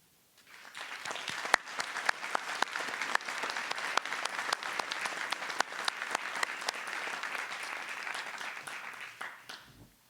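A municipal council assembly breaks into sustained applause, many hands clapping steadily for about nine seconds after a brief silence, then tapering off at the end.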